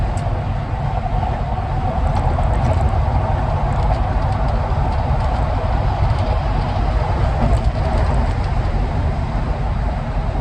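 A 1970 Cadillac Deville convertible cruises at about 60 miles an hour, giving a steady, dense low rumble of engine and road noise mixed with wind, unbroken and without any talk.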